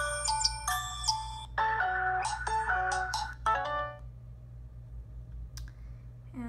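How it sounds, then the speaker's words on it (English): ZTE Grand X Max 2 smartphone plays ringtone previews: bright electronic melodic tones in quick patterned phrases, interrupted by a soft tap before a new tune starts, then fading to quiet with faint clicks. "I want to go ahead and check out the ringtones on this phone"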